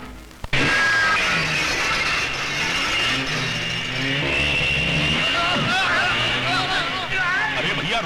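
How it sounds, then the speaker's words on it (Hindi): Motorcycles ride into a house in a film scene. A loud mechanical engine drone kicks in abruptly and revs and whines continuously, while voices shout over the noise. "अरे भैया मोटरसाइकिल सवारो, मेरे घर को हाईवे समझकर घुसे चले आ रही हो?"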